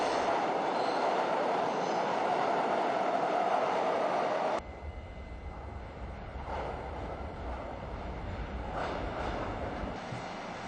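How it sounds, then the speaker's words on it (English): A train rolling past a rail yard tower, a loud steady rumble of wheels and cars close by that drops in tone partway through and carries on with faint clatter. "And here comes the next train, right on schedule."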